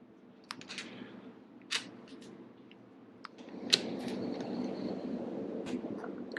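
A torque wrench set to 87 inch-pounds clicks while clutch lever bolts are tightened on a Yamaha YZ65 dirt bike, giving a few sharp, close, isolated clicks against a quiet workshop background.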